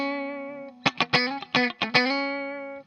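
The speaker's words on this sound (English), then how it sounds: "what I actually do is I strum all the strings and I mute them off" Electric guitar with all strings strummed and muted, playing a solo, with a held distorted note broken by a run of about seven percussive muted strums, then the note rings on alone.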